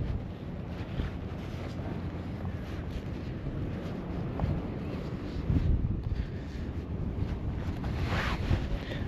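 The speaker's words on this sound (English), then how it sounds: "You can see that it's really windy today." Strong wind buffets the microphone on a North Sea beach near Hoek van Holland, a steady low roar and rumble with gusts swelling near the end, surf washing faintly beneath.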